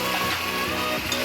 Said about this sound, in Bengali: এবার আমি ভেজে রাখা আলুগুলো এর মধ্যে দিয়ে দেব।